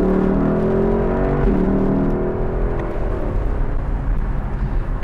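Lexus LC500 V8 convertible driving on a toll road, with a steady engine drone and road rumble throughout and a slight change in pitch partway through.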